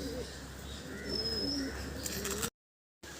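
Several pigeons coo softly at midday, steady low calls with a brief higher chirp, mid-distance under a constant outdoor hum, cut by a short silent gap near the end.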